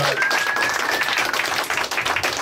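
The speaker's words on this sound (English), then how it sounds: "Give all the comics a round of applause" Bar audience at Fody's Tavern in Derry, NH clapping for the comedians at a stand-up show, a brief, fairly loud burst of scattered hand claps with a faint voice briefly audible near the start.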